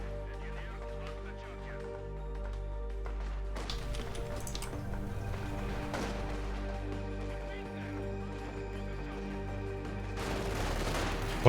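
Machine gun fire in the strategy video game Company of Heroes 2, bursts of rapid shots rising over a steady droning game soundtrack, with short distant volleys and a sharper burst toward the end.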